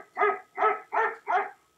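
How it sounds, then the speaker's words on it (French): A Google Home smart speaker plays a dog barking sound: four evenly spaced barks in a steady rhythm, clear and close, with no talking. "C'est bien le cri du chien."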